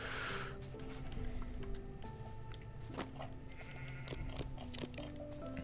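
Sheep bleat repeatedly in a video game, over a steady layered background, with several overlapping calls rising and falling, no talking.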